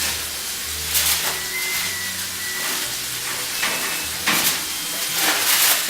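Meat browns in a hot pan with a steady sizzle and hiss, while occasional stirring and scraping sounds rise above the frying.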